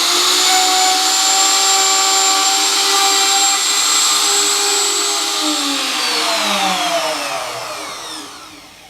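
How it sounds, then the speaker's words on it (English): A 250MX mortiser cuts a mortise in wood off a template, a steady loud high whine of the motor that holds for several seconds, then drops in pitch and fades as it spins down. "We're going to take the 250MX and we're just going to mortise a standard mortise off of this template."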